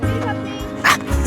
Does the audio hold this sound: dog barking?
yes